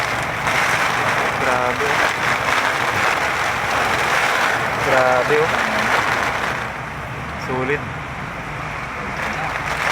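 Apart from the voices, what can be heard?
heavy rain on a car during a storm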